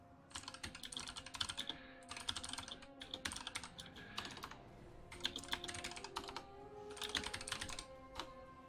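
Typing on a computer keyboard, several quick bursts of close, clicky keystrokes separated by short pauses, fairly quiet and with no talking.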